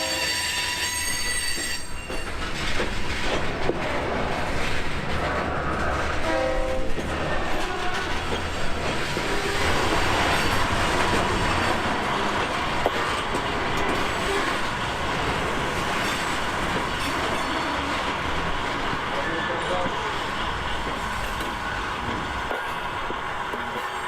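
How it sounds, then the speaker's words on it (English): An HO scale model train of a Norfolk Southern layout rolls into the yard, with steady rumbling wheels, squealing flanges and rail clatter sustained for the whole stretch, fairly loud and close, with no talking. "Here, the crew's gonna bring the train into the yard."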